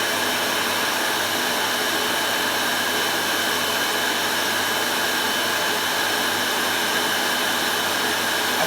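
A Hoover Celebrity Deluxe vacuum cleaner runs steadily and loudly throughout, a constant broadband whoosh with a high whine and no pauses or voices.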